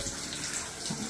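Water from a hotel room shower that tends to drip after the setting is changed, heard as a steady close hiss of running water with no talking.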